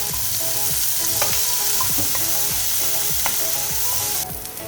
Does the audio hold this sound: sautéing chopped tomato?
yes